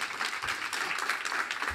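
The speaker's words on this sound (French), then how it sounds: "je vous propose qu'on applaudisse Michelangelo Mammoliti" An audience at a cooking demonstration applauds the chef Michelangelo Mammoliti from La Madernassa in Alba, Piedmont, a dense, even wash of clapping from many hands that holds steady throughout.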